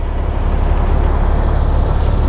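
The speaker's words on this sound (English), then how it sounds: "You can hear the rush of air." A fire pumper's primer pre-priming the front intake on a side-mount engine produces a loud, steady rush of air, a dense broadband roar with heavy low rumble holding constant throughout.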